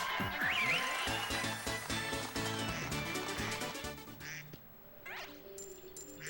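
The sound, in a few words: duck quacking in TTYD video game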